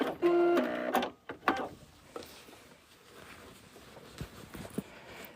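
A sewing machine back stitches at the end of a seam on a boxy bag, giving a short, close buzzing run followed by scattered clicks and handling noises of fabric being held in place.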